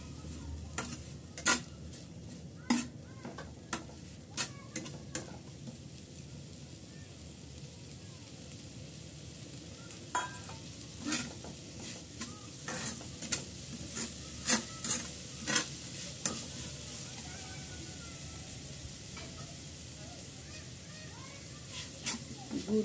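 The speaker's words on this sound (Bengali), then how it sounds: "গুড়টা গলা পর্যন্ত সুন্দর মতো আমি নেড়ে চেড়ে গুড় গলিয়ে নিচ্ছি চুলার আঁচে।" Jaggery melting in a pan over a stove flame is stirred with irregular scraping strokes over a soft, steady sizzle, heard up close and fairly quiet.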